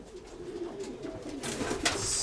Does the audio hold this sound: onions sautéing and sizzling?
no